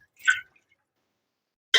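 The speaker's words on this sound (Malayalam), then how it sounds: "ഇതിപ്പോൾ വറുക്കണ വെള്ളം ഊറ്റി കളയട്ടെ" Water drained off about three-quarters of a kilo of large stingray pieces: a short close drip and splash, then silence, then another brief pour of liquid.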